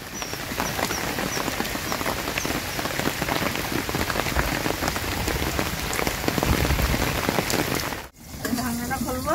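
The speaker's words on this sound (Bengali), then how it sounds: "বড় বৃষ্টি, বড় বড় মুষলধারে বৃষ্টি।" Heavy monsoon rain pouring down in a flooded rural area, a loud dense hiss of drops drumming on surfaces close by, steady throughout, with a short break near the end.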